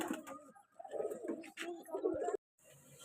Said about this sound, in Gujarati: હાલો કબૂતર પૂરાય છે હવે ચણી લીધું